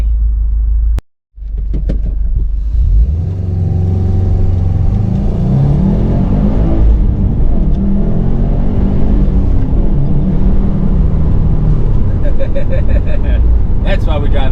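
A manual car pulls up an LA freeway entrance ramp and accelerates hard, its engine droning loud and steady after a short gap, with pitch climbing and falling through the gears and a brief cut near the start.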